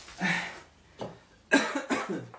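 A person coughs indoors in a dusty workshop room: one harsh cough, a short faint one, then a cluster of two or three rougher coughs close to the microphone.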